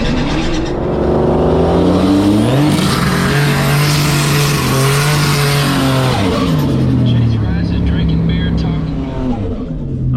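A Tesla Raven drag races a Buick Grand National on a strip, with loud close engine roar and stepped revving rising and shifting through gears, a whine of acceleration dominating the whole stretch.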